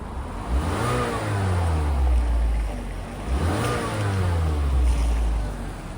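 A warmed-up 2016 Mazda CX-5 engine heard from the front, revved twice: each rev climbs sharply in pitch, holds briefly, then falls back toward idle, loud and close with a steady hum between.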